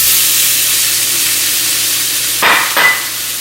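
Mushrooms hit a very hot clay pot with a steady, loud frying sizzle and hiss, a pair of brief louder stirring bursts near the end.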